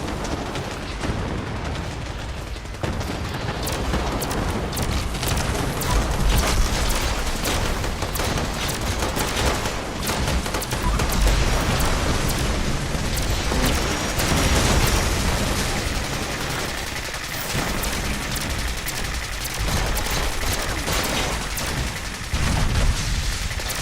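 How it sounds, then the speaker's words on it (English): Landmine explosions in the video game Fallout 76 during a crowded event: a dense, unbroken barrage of loud overlapping blasts and rumbling detonations continues throughout, with no pause between them. "everybody is stepping on all the mines"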